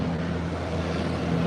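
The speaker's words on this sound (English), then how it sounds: "when you get a helicopter that close to you and it comes really by" A loud, steady low drone of a helicopter passing close overhead in Mexico, its engine and rotor noise filling the whole clip without a break.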